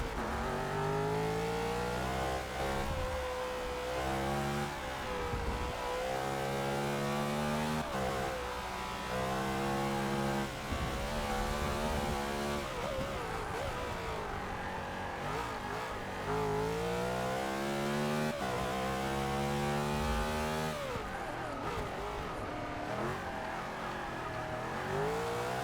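Race car engine in the Forza Motorsport 6 video game roars steadily throughout, rising and falling in pitch through repeated gear changes and revs, loud and up close with no talking.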